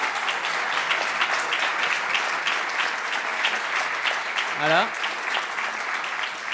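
Audience at a closing session of an industry and youth conference in Chalon-sur-Saône breaks into sustained applause, a dense, even clapping that carries through the whole stretch, with a brief spoken word near the end.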